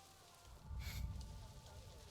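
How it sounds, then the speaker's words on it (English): Rain falls in the Planet Zoo video game, a soft patter that swells briefly into a denser wash of drops before settling back to a quiet, steady hiss. "Oh, it is raining."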